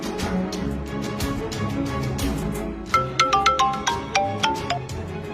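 A mobile phone ringtone during an outgoing call, a bright repeating melodic chime of quick plucked notes that starts partway in over a low background hum, fairly clear and close.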